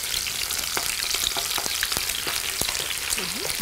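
Onion fries in a pan for an olive and meatball tagine, giving a steady close sizzle and crackle with scattered small pops and a few light stirring taps.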